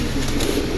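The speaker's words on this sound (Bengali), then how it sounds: "অনেক সুন্দর কবুতর।" Pigeon with cream eyes, cooing in a brief low throaty burst, close and fairly loud against a dense noisy background.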